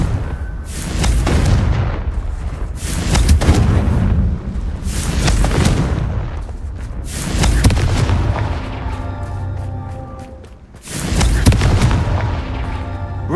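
Repeated fire spell explosions from Hogwarts Legacy, cast in quick succession: about five heavy booms, each a sharp loud burst with a rumbling tail, several seconds apart and close and powerful, with ringing tones between some blasts.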